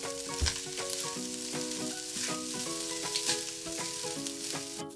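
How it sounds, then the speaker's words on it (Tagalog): Rice sizzling and frying in a pan for garlic fried rice, steady crackle with scraping stir strokes throughout, close and moderately loud, with background music tones. "4 na tasa itong isasangag ko."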